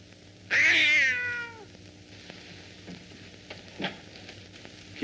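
A cat shut in a closet gives one loud, close, drawn-out meow with falling harmonics, followed by quiet room sounds and a few faint soft knocks.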